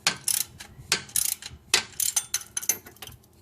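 A hand ratchet tightens the timing belt pulley on a Hyundai engine, giving close, bright clicking in short uneven bursts with brief pauses between strokes.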